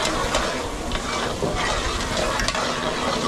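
Garlic and onion sautéing in a pan for a large batch of chicken spaghetti, a dense, loud continuous sizzle with stirring, heard alone without talk.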